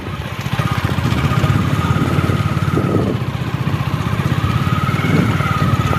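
A motorcycle engine runs steadily while riding along a rural road past green fields, a loud, close, throbbing putter with a constant rhythmic pulse that continues for several seconds, with no voices.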